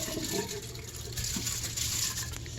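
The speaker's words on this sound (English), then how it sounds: "Then we're just going to strain off the water." Water runs and splashes steadily as it is strained off rinsed rice in a pan, a continuous soft pouring sound at moderate level.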